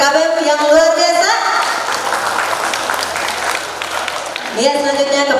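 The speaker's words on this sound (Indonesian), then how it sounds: "Tepuk tangannya dong untuk Perkabem yang luar biasa." Audience applause at an event for a student executive board, a loud burst of clapping from a crowd, framed by a speaking voice before and after.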